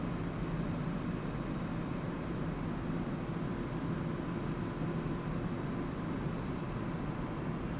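Su-25T Frogfoot jet in DCS flying a touch-and-go with gear and flaps down, its engines a steady, loud, unbroken roar throughout with no talk.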